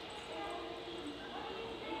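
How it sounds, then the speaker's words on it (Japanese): Rumbling subway train noise fills an underground station, a steady mechanical roar with faint squeals and a murmur of voices in the background. "電車が来ちゃってるような気がするんだが"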